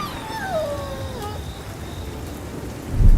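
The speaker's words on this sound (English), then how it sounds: "The wind was tearing tiles from the rooftops, and thunder roared across the sky." Storm sound effect with steady rain hissing throughout and a deep rumble of thunder swelling at the end, while a falling whine-like tone sweeps down early on.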